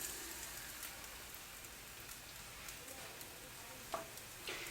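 Pita bread frying in olive oil in a hot cast iron skillet gives off a faint, steady sizzle with a few soft crackles, quiet and continuous throughout.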